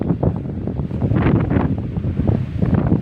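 Strong gusty wind buffets the microphone outdoors, a loud, steady broadband rush with surging peaks and no voices.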